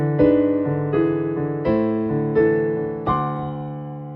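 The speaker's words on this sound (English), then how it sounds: "You have a cute piano introduction." Solo piano plays a gentle introduction, a few sustained chords struck roughly every second, ringing clearly with no voices.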